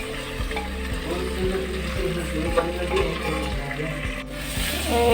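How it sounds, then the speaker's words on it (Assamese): Onion, tomato and potato fry in a pan with a steady sizzle, while a rhythmic low mechanical pulse runs underneath throughout. "তাৰপিছত ইয়াতে পিঁয়াজ, বিলাহী আৰু আলু অলপমান ভাজি লৈছোঁ"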